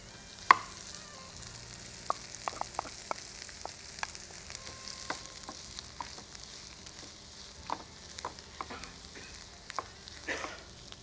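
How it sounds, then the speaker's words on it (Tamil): Potatoes sautéing with fenugreek leaves in a pan over low heat give a quiet background sizzle, broken by scattered sharp clicks and scrapes of stirring. "தீ குறைச்சி வச்சுட்டு அதில் நம்ம உருளைக்கிழங்கை சேர்த்துடலாம்"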